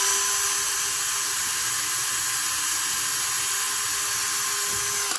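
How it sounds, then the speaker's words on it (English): Power drill whining steadily as it bores through sheet metal laid on scrap wood, a continuous high-pitched spinning drone held close and loud for several seconds. "That's going to help just guide the drill bit through."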